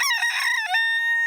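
A cartoon rooster in Peppa Pig gives one short, bright cock-a-doodle-doo crow in the morning, performed by a voice imitating the bird, close and clear with a held final note.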